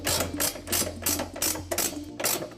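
A ratchet clicks in steady, evenly spaced bursts up close, tightening trailer hitch bolts under a Chevy Colorado pickup, with no voices over it.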